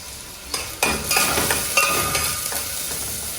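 Onions fry in a pan with a little turmeric, a soft continuous sizzle broken by several scraping, clinking stirs of a utensil against the pan, close and fairly quiet.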